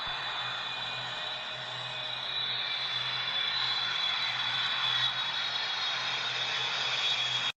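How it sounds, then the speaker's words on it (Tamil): An airplane passes overhead, a steady, moderately loud engine drone that holds evenly for the whole stretch before cutting off abruptly at the end. "எங்க அங்க பாருங்க, ஒரு ஏரோப்ளேன் வருது"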